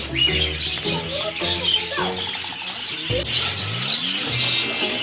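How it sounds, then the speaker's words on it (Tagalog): Parakeets and African lovebirds in an aviary chirp and squawk in quick, overlapping calls close by, while someone talks among the birds. "Kita niyo yung mga alaga nila dito, halos ang dami, parakeets, iba-iba, African lovebirds."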